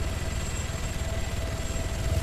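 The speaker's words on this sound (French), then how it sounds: "on va voir un peu que ça donne Altis vu de haut avec un hélicoptère" Helicopter flying over Altis in an Arma-style military video game, a steady whirring rotor and engine drone with a faint high whine, constant and moderately loud throughout, no voices.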